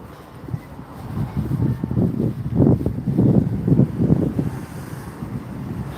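Strong gusty wind buffets a microphone outdoors in a seaside town centre on an airshow day, a loud low rumbling roar that swells and eases in waves.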